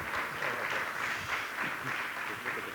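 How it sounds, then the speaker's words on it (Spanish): Fairly faint, steady audience applause welcoming a speaker to a debate, an even patter of many hands clapping at some distance without clear voices. "le damos la bienvenida y con un fuerte aplauso"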